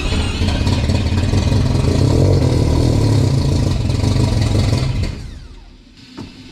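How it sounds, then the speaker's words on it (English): The AWD four-rotor Mazda RX-7 engine is turned over on its starter, making a loud, steady, churning clatter for about five seconds before it cuts off and goes quiet. "And then we're gonna turn on the starter."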